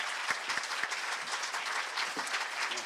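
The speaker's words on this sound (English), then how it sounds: "I'd like to give a nice round of applause for Joe, Chris," Convention audience clapping for panel guests at a Quantum Leap 20th anniversary celebration, a steady, moderately loud wash of applause with a few sharper individual claps standing out near the start.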